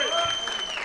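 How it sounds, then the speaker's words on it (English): Comedy show crowd applauding a former Ohio State football player, a brief burst of clapping under a voice speaking over it. "Give a round of applause to Tyvis"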